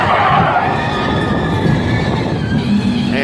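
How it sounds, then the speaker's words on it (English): A ride train at the Dollywood theme park passes close by with a loud, continuous rumble of wheels and faint metallic squeals throughout. "Oh, there's a train."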